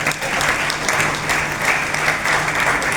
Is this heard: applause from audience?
yes